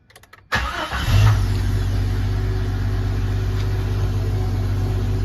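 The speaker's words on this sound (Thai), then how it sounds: "สตาร์ททีเดียวติดนะครับ" A Jeep XJ engine fitted with a Jeep ZJ ECU after repair starts on the first try: a brief crank after near silence, then it catches and settles into a steady, loud idle that runs to the end.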